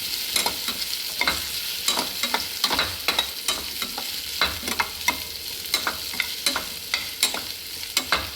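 Food frying in a pan for a sweet recipe, steady close sizzle with repeated stirring scrapes in an irregular rhythm, no talking.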